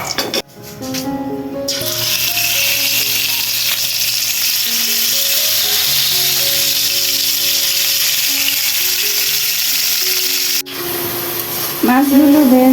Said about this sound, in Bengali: এই যে কিচেনে এসে মাছ ভাজি করে নিতেছি